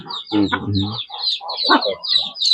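Native poultry farm flock of hens and roosters clucking and squawking up close, with overlapping calls and one drawn-out tonal cluck early on, continuing without pause.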